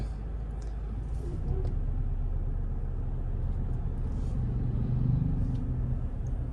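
A Skoda Scala's engine rumbles low and steady as the car strains to pull away against brake load, the drone holding constant with a slight swell near the end.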